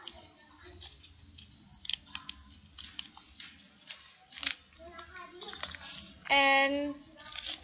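Scissors snip through material for a junior high school volcano project, a few sharp cuts scattered among children's chatter and nearby handling noises.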